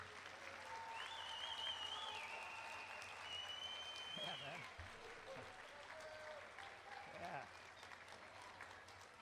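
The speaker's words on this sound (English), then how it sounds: "So how about if we give these 5th graders another round of applause for how great they sound." Audience at a school spring band concert applauds the 5th grade band, steady clapping from a crowd filling the hall throughout, with scattered voices and a few cheers mixed in.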